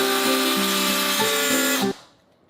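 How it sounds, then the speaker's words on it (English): A power tool cuts through the thin metal side panel of a freezer, a loud whining grind with shifting pitch as the blade bites, then it stops abruptly and the motor spins down into quiet. "this is my first time cutting metal"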